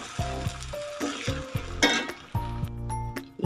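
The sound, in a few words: red chillies and ginger garlic paste frying in tempering oil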